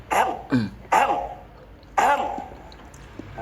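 A man clears his throat four times, pushing from the abdomen, during a lesson on ritual purification. There are three quick, firm bursts close together, a pause, then a fourth.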